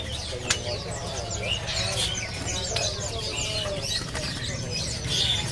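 Decumini birds chirp and twitter in short bursts at a busy bird seller's stall, mixed with other caged birds, wing flutters and low background chatter.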